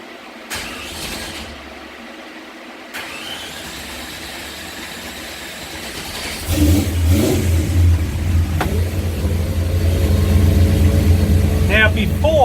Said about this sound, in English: I'll fire the car up and show you this line pressure